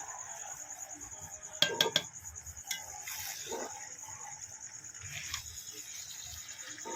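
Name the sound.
stirring herbal pachon in cooking pots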